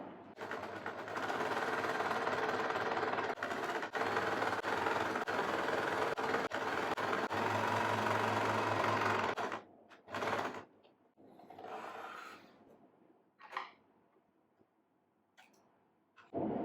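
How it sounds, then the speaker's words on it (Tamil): A sewing machine runs steadily for about nine seconds while stitching the lining around a churidar neckline, a close, even mechanical whir. It then stops, followed by a brief restart and a few quiet handling noises. "லைனிங் மெட்டீரியலை வச்சு இந்த நெக் லைனை ரவுண்டாக தச்சு வரும்"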